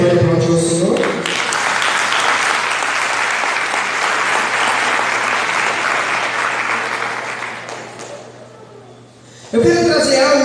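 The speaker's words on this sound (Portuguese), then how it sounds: "Você pode aplaudir o Senhor?" Church congregation applauding during a worship service, a loud continuous wash of many clapping hands lasting several seconds, fading down near the end before a voice resumes.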